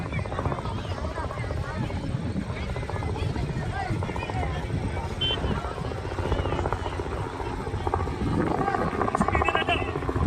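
A helicopter flies over a huge crowd gathered to watch it in Barmer, its steady rotor drone filling the whole stretch beneath continuous crowd chatter and nearby voices.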